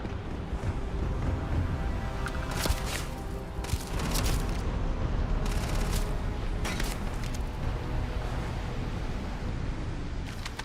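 A grenade goes off during combat in the video game Starfield, amid a dense, continuous roar of blasts and noisy rumble with several sharper cracks breaking through, loud and close throughout.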